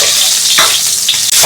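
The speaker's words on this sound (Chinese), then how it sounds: "葱姜爆香" Scallion and ginger hit plenty of hot oil in a wok, making a loud, dense sizzle with a quick stirring scrape, close and without talk.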